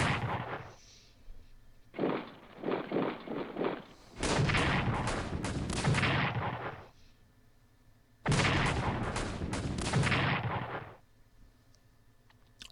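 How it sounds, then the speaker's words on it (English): Artillery fire in the strategy game Strategic Command World War I, several loud booming salvos arriving in separate bursts with crackling, rolling tails and short quiet gaps between them. "Straight into the artillery."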